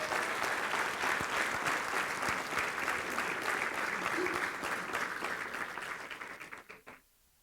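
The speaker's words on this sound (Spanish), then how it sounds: "Dale un aplauso al Rey," A church congregation applauds together during a pastor's sermon, a steady, dense wash of clapping from many hands that holds for several seconds, then thins and stops abruptly.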